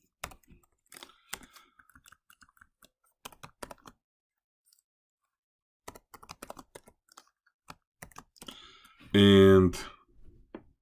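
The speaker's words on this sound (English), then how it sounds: "You can type this function." Keys on a computer keyboard are typed in scattered bursts of soft, close clicks with pauses between, followed by a short, loud burst of speech at the end.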